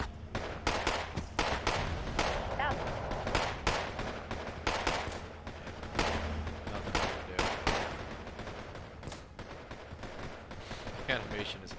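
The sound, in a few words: gunfire in the video game Wargame: AirLand Battle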